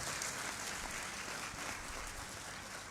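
An audience at a literature festival closing ceremony in Sukkur claps for Ahmed Shah. The applause is soft and distant, a steady wash of many hands lasting a few seconds.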